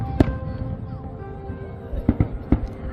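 Fireworks bursting above the Saryu river during the Ayodhya Deepotsav Diwali celebration: one sharp bang early, then a quick cluster of three booming pops near the end over a low crowd hum.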